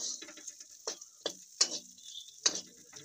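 Cashews and other dry fruits being fried in a pan until lightly browned, with sparse sharp clicks and scrapes of a spoon against the pan over a soft sizzle, close and fairly quiet.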